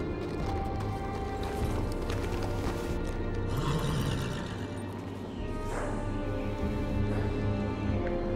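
Horse hooves clip-clop and a horse whinnies in Telltale's Game of Thrones video game at the gate of Castle Black, mixed with a dense ambient game score and background noise.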